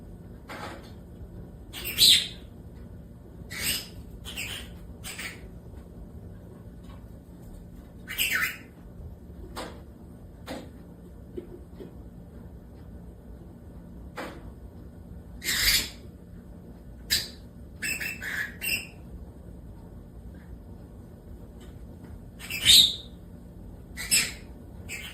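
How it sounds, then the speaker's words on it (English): Pet bird giving sharp, scattered squawks and brief chirps at irregular intervals, fairly close and loud over a quiet indoor background. "You're a pretty bird."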